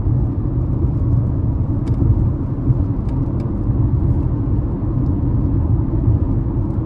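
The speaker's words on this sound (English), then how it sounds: "And relatively quiet in the cabin here. I'm just barely hearing the road on the tires" Low, steady tire and road rumble fills the cabin of a 2025 Nissan Kicks SV 2.0 while driving, muted and even, with a few faint ticks and no talking.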